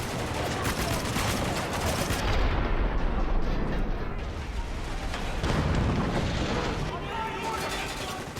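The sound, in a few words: explosions and gunfire from Spec Ops: The Line video game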